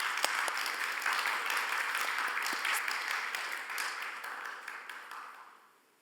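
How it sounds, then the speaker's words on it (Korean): A church congregation applauds during a Sunday worship service, a dense, sustained wash of many hands clapping that carries steadily for several seconds before fading out at the end. "우리 이 시간 한번 감사의 박수를 한번 드릴까요?"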